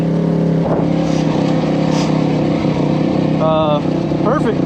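A dirt bike engine hums loud and steady while riding off-road on a slick trail in Kentucky, a continuous droning tone with brief pitch swoops near the end, and a voice talks over it.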